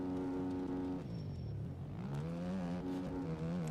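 A motocross bike engine in the MX Bikes video game drones steadily. Its pitch dips and then climbs again as it quickly double upshifts into third gear.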